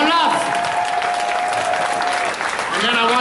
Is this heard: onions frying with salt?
no